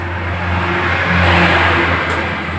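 Motorcycle engine with an ignition fault turned over by the starter motor, giving a continuous loud whirring crank close by, steady throughout without catching.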